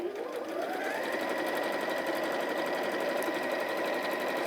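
A sewing machine runs steadily, sewing a seam in quilting fabric, its motor whirring at an even, close, continuous pace with no voices over it.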